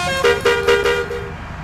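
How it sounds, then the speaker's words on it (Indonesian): A tour bus in Bus Simulator Indonesia sounds its telolet horn, a loud, close run of bright musical toots pulsing in a quick, melodic rhythm over the engine. "kita telolet dulu, teman-teman. Telolet."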